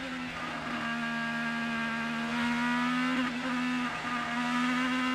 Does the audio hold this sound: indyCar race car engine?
yes